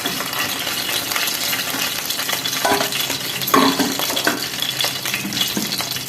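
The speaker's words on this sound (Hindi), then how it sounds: "पैन रे तेल गरम करिबा ओ माछ मुंड रे टिके लूण हलदी दे फ्राई करिबा" A fish head seasoned with salt and turmeric fries in hot oil in a pan, giving a steady loud sizzle with occasional stirring scrapes and small clinks, and no talking.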